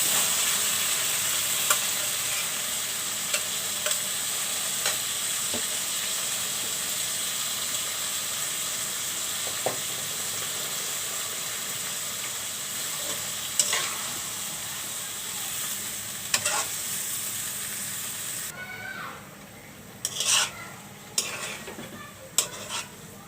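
Boiled Malabar spinach and potato go into a pan with shrimp and are stirred, a steady sizzle running throughout with scattered scrapes and clinks of a utensil against the pan, growing sparser and more clattery near the end.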